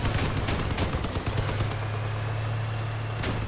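Crossout vehicle combat with bursts of rapid weapon fire over a steady low engine drone, a cluster of sharp shots early and another near the end, with no talking.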